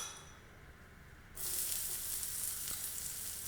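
Shallots hit hot coconut oil for a curry-leaf fish fry: quiet at first, then a sudden loud, steady sizzle that bursts in and holds close to the end, with a faint clink near the end.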